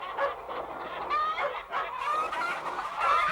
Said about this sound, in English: Shooing the hens into the roost.